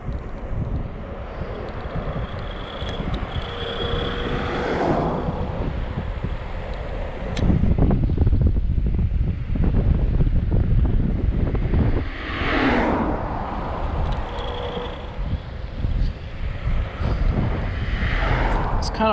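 Steady roaring wind buffets the microphone while riding a Hiboy S2R Plus electric scooter outdoors, loud and continuous throughout with gusts swelling and easing.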